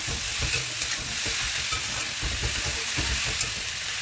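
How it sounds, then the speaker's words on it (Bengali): Vegetable chop filling with salt and green chillies fries and is stirred in a pan, giving a steady, close sizzle broken by soft scraping strokes throughout, with no voices. "তো এবার এই পুরটা একটু ভাজা ভাজা করে নিতে হবে।"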